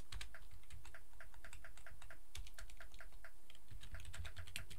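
Rapid typing on a computer keyboard, a dense run of close, crisp key clicks with uneven rhythm and no talk.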